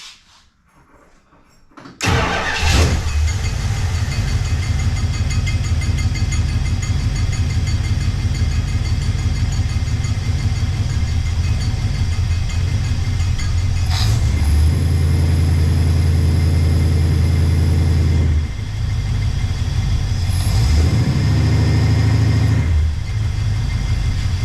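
A 1969 Plymouth Fury III V8 cranks and catches after a short quiet lead-in, then idles loudly and steadily for over twenty seconds with slight shifts in pitch and no talk.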